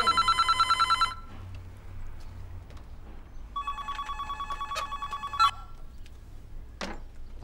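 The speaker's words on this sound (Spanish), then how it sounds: "Mamá, decile a Feli que atienda" A telephone rings indoors in a domestic setting, a rapid trilling bell burst, then a pause with background room noise, then another long ring, fairly faint with no talk over it.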